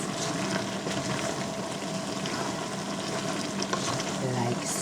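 Nicaraguan-style chop suey with shrimp tossed in a hot pan for a final mix, a continuous loud sizzle with rustling and scraping of the stirred food, close and steady, with no talk.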